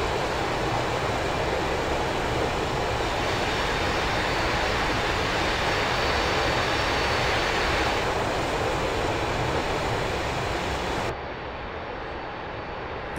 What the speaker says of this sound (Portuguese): Só mostrar para vocês lá fora o som do motor.